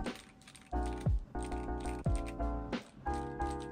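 Keys clatter on a mechanical keyboard fitted with mixed switches, in short irregular bursts of clicky, rattling strokes close up, with brief pauses between them.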